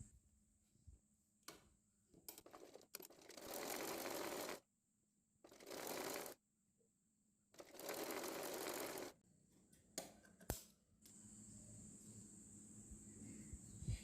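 Sewing machine stitching seams on girls' shorts fabric, several short bursts of rapid mechanical chatter lasting one to two seconds each, separated by pauses with small clicks and handling noises, close and without talk.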